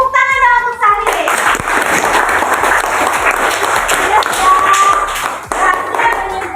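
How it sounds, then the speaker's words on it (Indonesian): Children in a classroom clap and applaud for a classmate named Sahril, a dense burst of close hand claps lasting several seconds after a brief spoken moment, with a few voices mixed in. "Tepuk tangan dong untuk Sahril"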